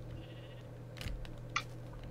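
A Minecraft sheep gives two short, faint bleats over a steady low game hum.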